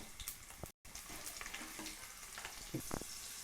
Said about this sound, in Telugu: తాలింపు కొంచెం వేగాక ఎండుమిరకాయలు కూడా వేసుకుందాము.